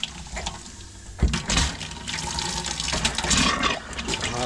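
Hot water running from a tap into a sink aboard a small boat, a steady loud splashing gush that swells after a brief start and keeps pouring without pause.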